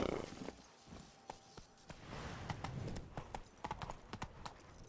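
Hooves of Geralt's horse Roach in The Witcher clip-clop in a steady walking rhythm, near and fairly crisp, with faint ambient game sounds beneath.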